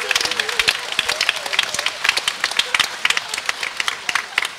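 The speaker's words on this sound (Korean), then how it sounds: "박수 쳐야지 그때는." An audience at a Korean Catholic Holy Spirit conference breaks into scattered, sharp clapping that comes in uneven bursts, with a voice talking over it throughout.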